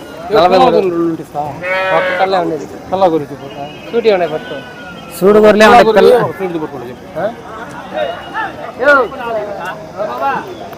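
Sheep, including pregnant ewes, bleat repeatedly at the Gudur sheep market, mixed in with close conversation among several people in a busy outdoor setting.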